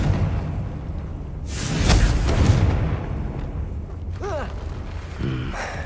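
A Confringo spell explodes in the video game Hogwarts Legacy, producing a broad, rumbling blast that swells for about a second over steady game ambience, followed by short shouted voice sounds.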